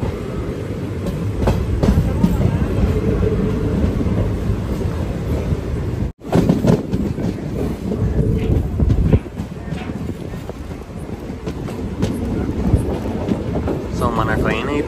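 The CirCar Express 17644 passenger train runs with a steady loud rumble and rhythmic clatter of wheels on the rails, heard from on board, with brief voices in the carriage.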